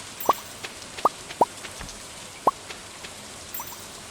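Rain in the farming video game Stardew Valley: a few sparse, crisp droplet plinks fall at irregular intervals over a quiet, faint hiss, with no voices.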